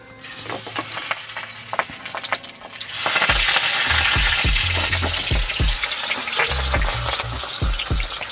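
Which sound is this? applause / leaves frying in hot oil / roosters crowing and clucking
leaves frying in hot oil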